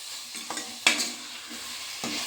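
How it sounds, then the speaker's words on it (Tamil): Tomatoes and green chillies stirred in hot oil for a mushroom biryani, giving a steady close sizzle with scraping stirs and a few sharp utensil knocks against the pan. "இந்த ஸ்டேஜில் 2 பச்சை மிளகாய், நம்ம கட் பண்ணி வச்சுருக்கிற தக்காளி சேர்த்துக்கலாம். நல்லா மிக்ஸ் பண்ணிட்டு நல்லா வேக வச்சுக்கலாம்."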